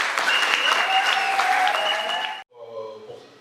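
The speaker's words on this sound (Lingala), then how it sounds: "kobeta maboko elongo na nga" Audience at a Salvation Army celebration clapping hands together, a dense, loud stretch of applause for about two and a half seconds that cuts off abruptly, then gives way to softer sound.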